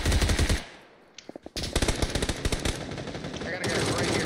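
Rapid automatic gunfire rattles through a video game shooter match, loud bursts with a brief lull before a fast stream of sharp cracks resumes, with players talking over the shooting.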